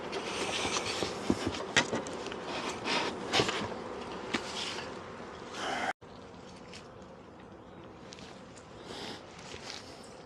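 Honeybees at a hive being readied for winter with foam insulation in Connecticut, a steady soft buzzing drone with scattered louder passes and light handling knocks, faint and continuous with a short break midway.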